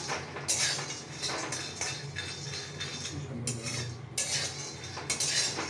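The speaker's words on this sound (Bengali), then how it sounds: "বাদামটাকে আমি ভেজে নিচ্ছি বন্ধুরা" Peanuts rattle and scrape in a dry pan as they are stirred, with bursts of metallic clinking and shuffling.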